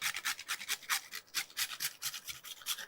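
Whole nutmeg is grated over a pot of paruthi paal urad dal payasam, making quick, rhythmic scraping strokes, about four per second, close up and fairly soft.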